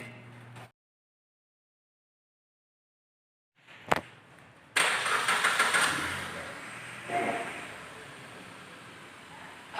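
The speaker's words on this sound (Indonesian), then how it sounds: "Sekarang kita hubungkan probe dan hidupkan mesin." A Suzuki R3 car engine starts during an emissions test at a workshop, with a probe in the oil hole. After a quiet pause and a single click, the engine catches and settles into a steady, close, fairly loud running sound.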